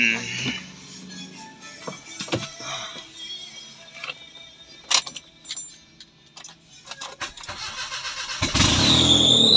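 A Honda Civic under full restoration is started: keys jangle and assorted clicks and knocks lead to the engine cranking and catching near the end, a loud close roar that holds steady.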